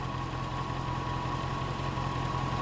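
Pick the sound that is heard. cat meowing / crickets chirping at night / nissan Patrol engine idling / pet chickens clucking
nissan Patrol engine idling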